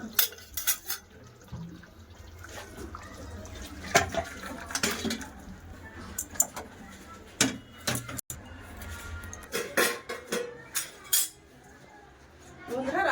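Meat curry (mangso kosha) stirred and poured out of a cooking pot, with scattered metallic clinks and scrapes of spoon on pot, short splashy bursts, close by, amid quiet pauses.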